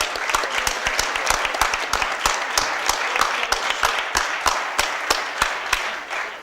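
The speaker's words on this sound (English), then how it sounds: "So if you could give them all a round of applause" Applause for a high school boys soccer team and its coaches, a steady patter of many hands clapping with sharp individual claps standing out, continuous and fairly close for the whole stretch.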